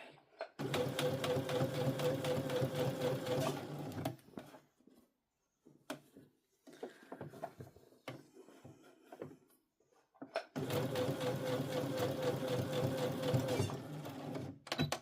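A Brother CS7000X sewing machine stitches a bucket hat in two fast, rattling runs, with a quiet stretch of light clicks and handling between them.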